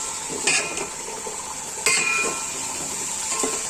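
Cumin seeds frying in a pan of hot oil give a steady, close sizzling hiss, with a couple of sharp metallic clinks from a utensil against the pan.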